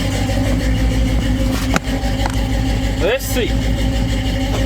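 A 1983 Chevrolet C10 pickup with a small-block 350 V8 idles loudly and close, with a brief clunk as it shifts into reverse after new U-joints, and someone speaks briefly over the rumble.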